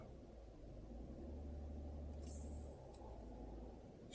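A 2026 Toyota Tundra pickup drives along, a steady low engine and road rumble heard from inside the cab, with a brief faint high tone near the end.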